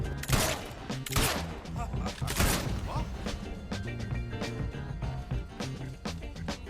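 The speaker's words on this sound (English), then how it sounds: "oh, it's 6 kills with the revolver without reloading" Revolver gunfire in a post-apocalyptic video game, several loud sharp shots in quick succession with thuds and impacts, mixed with game sounds and a person talking over them.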